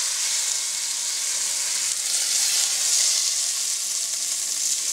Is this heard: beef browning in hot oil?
yes